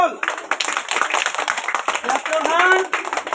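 Children clapping hands at a school prize giving for a rhymes competition, a dense, continuous patter of many hands close by, with an adult voice speaking over it.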